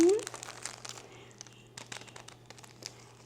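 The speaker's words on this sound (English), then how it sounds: "The crinkly bags also double as wonderful cat toys." A cat bats at crinkly plastic bags from coleus plants, making a sharp crumple followed by scattered light rustles and crackles. A person talks nearby.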